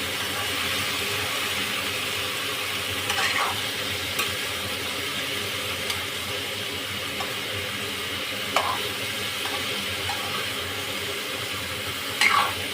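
Spoon stirring a mixture in ghee in a pan, with a steady sizzle and frying hiss throughout and a few faint scraping taps, close and continuous with no talking.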